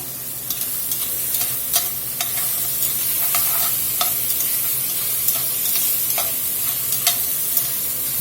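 Mushrooms sizzle steadily in a hot pan for a beef and mushroom onion soup, with sharp clicks and scrapes of stirring scattered through the close, constant frying and no speech.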